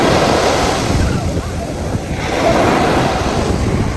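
Ocean waves break on a sandy beach, a loud continuous wash of surf mixed with strong wind buffeting the microphone, swelling again near the end, with no speech.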